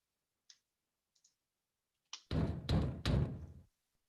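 Knocks at a door during a staged reading: a few faint taps, then three loud, heavy thuds in quick succession, close and alone with no talking.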